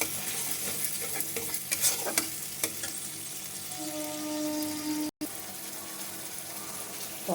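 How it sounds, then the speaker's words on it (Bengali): Pointed gourd is stir-fried with yogurt in a pan, giving a steady sizzle with scraping spoon strokes and a brief dropout near the end; no one speaks. "দইটাও ঢেলে দিলাম, এবারে কষাবো, ভালো করে কষাবো।"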